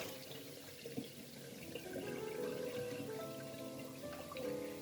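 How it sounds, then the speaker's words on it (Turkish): Boiled broccoli being drained in a kitchen sink, with steady running water splashing and trickling at close range throughout, no voices. "Brokoli yeteri kadar soğudu. Şimdi bunları süzüyorum."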